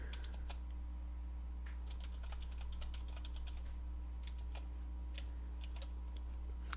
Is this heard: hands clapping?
no